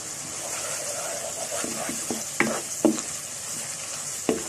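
Whole garam masala spices fry in a pan, giving a steady soft sizzle with a few sharp scrapes and taps as they are stirred.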